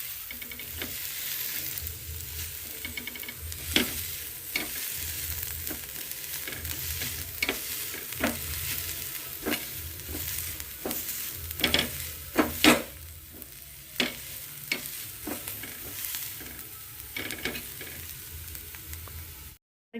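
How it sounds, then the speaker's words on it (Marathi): Green peas pressed with a hand masher for a spicy matar kachori filling, giving irregular soft squelches and taps that scrape and knock steadily for about twenty seconds, close by with no talking. "मॅशरच्या सहाय्याने बारीक करून घेऊ।"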